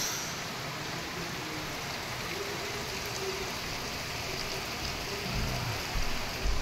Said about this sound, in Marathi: परत आला पाऊस.